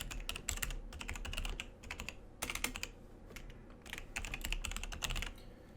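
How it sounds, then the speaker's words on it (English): An email address is typed on a computer keyboard, with soft, quick key clicks coming in short bursts separated by brief pauses. The sound is close and quiet. "go ahead and type in your email"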